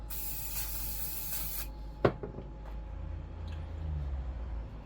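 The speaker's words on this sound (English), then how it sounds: "quick spray of cleany stuff" A hissing spray of aerosol cleaner runs for about a second and a half, followed by a sharp knock and a few faint clicks and handling sounds, while refitting carburetors on a Yamaha Virago 535 motorcycle.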